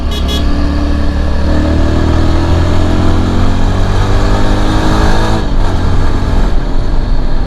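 A 2022 Yezdi Adventure motorcycle engine revs loud and close, its pitch climbing and falling through several throttle blips with a brief dip near the end.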